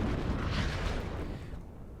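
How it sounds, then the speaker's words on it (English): Artillery explosions in the strategy game WARNO: a heavy, rumbling blast rolls out and slowly fades, a deep boom with a dull low-end roar. "Lots of artillery coming in."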